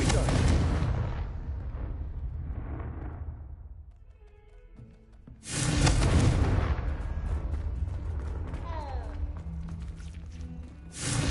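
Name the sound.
Confringo fire spell explosion in the video game Hogwarts Legacy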